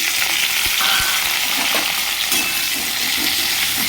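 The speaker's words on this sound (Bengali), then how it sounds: "এবারে কুচিয়ে রাখা ওলকপিগুলো দিয়ে দিচ্ছি" Chopped kohlrabi fries in hot oil in a wok, tempered with nigella seeds and dried chillies. It gives a loud, dense, steady sizzle, with scattered stirring scrapes.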